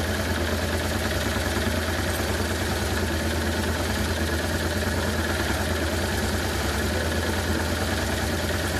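Honda Transalp motorcycle engine idling after a carburetor mixture screw adjustment, a steady loud mechanical rumble with an even pulse that holds without change throughout, no voices.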